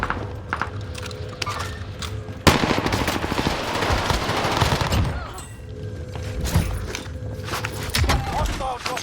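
Submachine gun fire from a PPSh in the Warzone video game, with a dense burst of rapid shots and loud in-game combat noise from about 2.5 seconds, amid other game sounds and voices.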